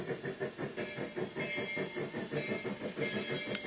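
An early-1910s Shay geared steam locomotive with a wagon top boiler and steel cab runs on rails, giving a quick rhythmic chuffing and clanking beat with faint high squeals, moderately distant and fairly quiet.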